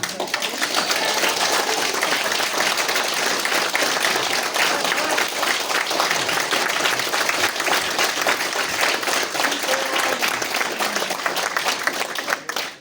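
At an accordion academy concert in Mosonmagyaróvár, an audience claps steadily and loudly for about twelve seconds, a thick even wash of applause that cuts off at the end.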